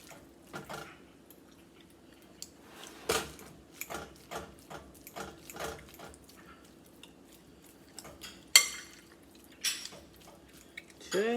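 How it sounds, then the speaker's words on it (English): A fork mashes cooked sweet potato in a bowl for a sweet potato pie, giving faint, scattered clicks and soft taps against the dish at an uneven pace, with quiet room noise between. "just kind of mash it up a little bit with your fork"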